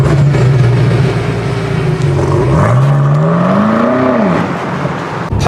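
The 4.4-litre V8 of a BMW M5 Competition xDrive accelerates hard from inside the car, a loud engine drone rising in pitch through the gears, with one dip where it shifts before climbing again.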